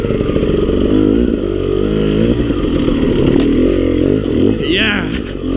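A motorcycle engine revs hard and loud up close, its pitch sweeping up and down as gears are shifted down, over a few seconds.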